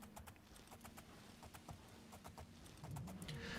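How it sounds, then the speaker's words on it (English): Rapid hoofbeats of a horse in the game The Elder Scrolls IV: Oblivion clatter in a steady galloping rhythm over a low ambient hum, growing slightly louder near the end. "Now we return to galloping."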